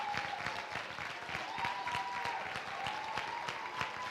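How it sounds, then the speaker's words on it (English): A banquet-hall audience claps steadily for student government delegates at a dinner keynote, a dense, sustained wash of applause with many individual claps close by and no pause throughout. "You deserve your own round of applause."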